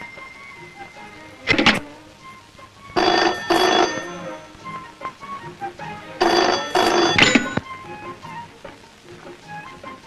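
A telephone rings in bursts, two long trilling bell rings with short clicks and rattles between, fairly loud and close with no talk.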